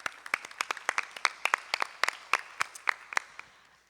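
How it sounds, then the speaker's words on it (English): A small audience at a city council meeting in Albany claps in a brief, sparse burst of distinct hand claps that starts lively, then thins out and fades after a few seconds, with no talking over it. "let's get a clap on that"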